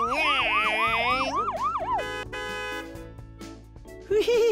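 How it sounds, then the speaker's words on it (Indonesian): Fire truck siren and horn on a children's fire engine ride, loud and close, with a warbling wail that rises and falls before shifting into steady horn blasts and a short final burst. "Wow, klaksonnya sangatlah kencang."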